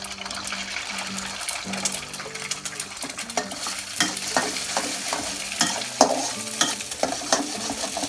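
Egg frying in a pan with a steady sizzle, punctuated by clattering stirring and scraping of a utensil against the pan, fairly loud and close with no talking.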